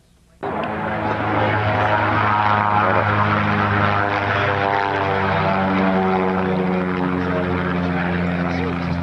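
A restored vintage propeller aircraft makes a low pass at a 1995 Air Force base homecoming air show. The engine drone comes in abruptly, then holds as a loud, steady hum with a rising buzz, while an announcer talks over it.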